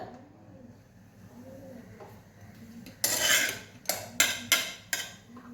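Semolina is dry-roasted and stirred in a pan for sheera. After a quiet start there is one long scrape of a spoon against the pan, then four sharp, rhythmic scraping strokes, close and fairly loud.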